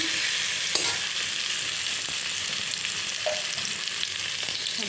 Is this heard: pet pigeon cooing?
no